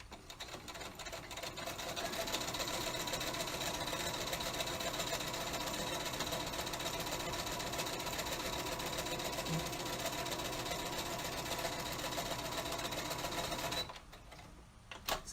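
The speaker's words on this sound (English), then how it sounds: "I'm going to lift up my presser foot, turn my fabric, put the presser foot down again, and I'm going to start sewing again." A sewing machine stitches fabric for a face mask, a rapid, even mechanical whir and clatter running steadily for most of the stretch before stopping near the end, up close with no speech.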